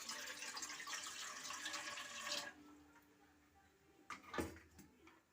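Water is poured in a steady, loud stream into an idli steamer pot on a stovetop for about two seconds, then stops, leaving a quiet kitchen with a few faint clinks.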